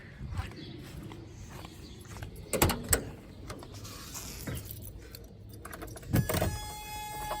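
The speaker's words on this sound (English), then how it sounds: "I'm going to turn my key back on." Keys jangle and an ignition key clicks on in an air-cooled 2.0 VW Vanagon, a few sharp metallic clinks and mechanism clicks over a quiet background, with some handling noise between them.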